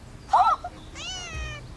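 A cat gives two loud, close meows, the first short and sharp, the second longer and drawn out, with quiet room background and no talk.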